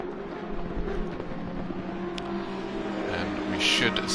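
Race car engine in a sim racing game at Monza, a faint, distant engine whine with shifting pitch as the car is pushed hard, under low background noise.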